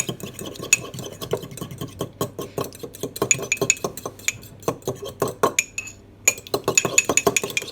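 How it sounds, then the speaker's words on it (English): A fork beating an egg in a cup, giving quick, rhythmic clinks and scrapes of metal against the cup, close and steady with one brief pause. "let's get a fork and beat it thoroughly"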